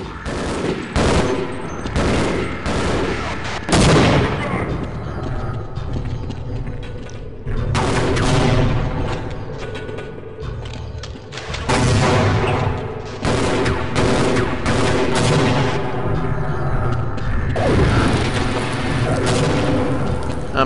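Gunfire in the Half-Life video game, including a .357 Magnum, with loud repeated shots and metallic mechanical clanks in bursts, a sustained, dense barrage with no voice over it.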